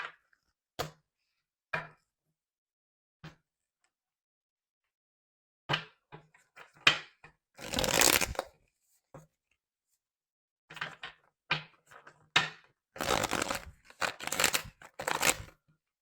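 Tarot cards handled and shuffled by hand in sparse clicks and taps, then denser riffling bursts toward the middle and end, close and fairly loud with quiet gaps between.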